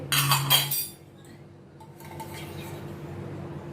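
A kadhai wok set down on a gas stove gives a short metallic clatter and clink, close and fairly loud, followed by a quieter steady hiss of the lit burner.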